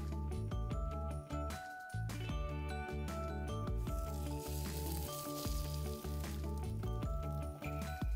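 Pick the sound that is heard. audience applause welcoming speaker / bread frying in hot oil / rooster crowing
bread frying in hot oil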